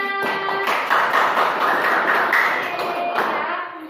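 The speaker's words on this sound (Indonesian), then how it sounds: "tepuk tangan dulu untuk semuanya" Classroom applause during a grade VII guidance and counselling lesson, a dense burst of many hands clapping for about four seconds, fairly loud and steady, with faint voices mixed in.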